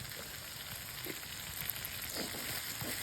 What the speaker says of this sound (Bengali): একদম ভাজা ভাজা করে নেব।